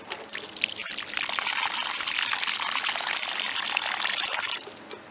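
Water pours steadily into a planting hole dug for tomatoes in hard, raw ground, a continuous close splashing gush that runs about four and a half seconds before stopping.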